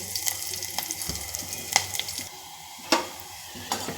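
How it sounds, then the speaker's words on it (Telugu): Onion pieces frying in oil for a tempering of leafy greens, a soft steady sizzle with scattered clicks and scrapes of stirring, close and without talk. "ఆకుకూర తాలింపు కోసం అండి ఉల్లిపాయ ముక్కలు పెట్టాను ఎగుతున్నాయి"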